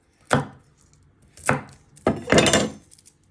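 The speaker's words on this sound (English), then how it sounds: "you just want to trim the ends and peel any of the skin" A knife chops down on a garlic clove against a cutting board in three sharp, separate thuds, the last one longer and scraping, close and clear with no talk.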